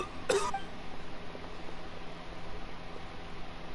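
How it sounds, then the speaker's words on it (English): A single short cough from an ailing character, Ramon, in a Genshin Impact cutscene, a brief rough burst near the start followed by quiet game ambience. "Why is he coughing so much?"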